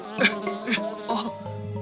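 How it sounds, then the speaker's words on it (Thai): Cartoon houseflies buzzing around a pile of smelly garbage, a short wavering drone that swells and fades in a few bursts, fairly close and steady under a light musical backing. "ไหนจะพวกแมลงวันน่ารำคาญนี่อีก"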